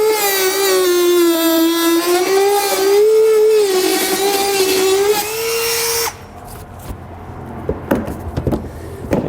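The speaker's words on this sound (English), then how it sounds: "And to cut this, I'm going to use a Dremel tool." A Dremel rotary tool cutting thin plastic fascia on a 2017 Jeep gives a loud, close, high whine that wavers in pitch for about six seconds, then stops, leaving faint scraping and handling noises.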